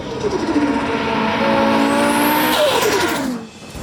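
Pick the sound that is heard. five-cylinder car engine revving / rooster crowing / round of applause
five-cylinder car engine revving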